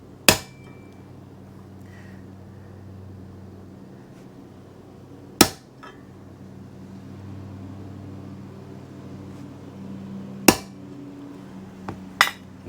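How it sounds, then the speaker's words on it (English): Four sharp metallic hammer blows on a center punch marking a metal mounting spot for drilling, spaced several seconds apart with a quick double strike at the end, over a low steady background hum. "I took my punch and I made me a little spot there so my drill bit can stay centered"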